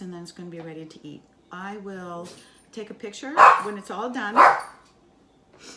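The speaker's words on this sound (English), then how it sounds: "That is my dog." A person talks while a dog barks twice nearby, sharp and loud, between the spoken words.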